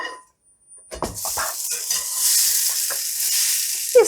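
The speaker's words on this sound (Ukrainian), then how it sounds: "Все, смажу ще хвилинки дві і вже більше не накриваю кришкою." Ukrainian perepichky flatbreads fry loudly in a hot pan after a brief silence, with a few clanks of a utensil and a steady crackling hiss.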